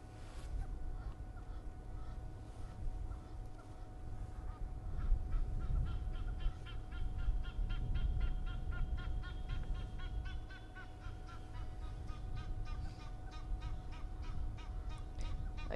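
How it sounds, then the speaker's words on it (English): Two Egyptian geese call from behind a bush on a morning safari drive, a run of repeated harsh, rhythmic honks at moderate distance over a low engine rumble. "there's a couple of Egyptian geese over there calling"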